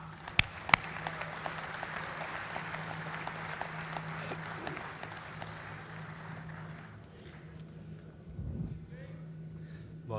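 Audience at a mushaira poetry gathering in Doha applauds to welcome the poet Khushbir Singh Shad, a dense, steady roar of clapping that fades and thins toward the end.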